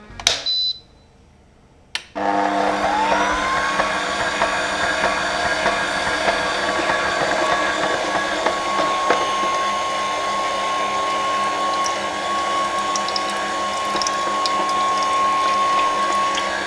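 Sunmaki juice extractor running while juicing oranges, a steady mechanical whirr with grinding and a high whine, close and continuous after a short start-up.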